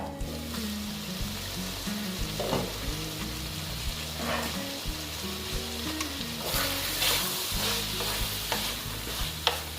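Potato, pointed gourd and soybean curry sautéing in a pan, a loud close sizzle with steady bubbling and repeated stirring scrapes over a low droning hum, no talking.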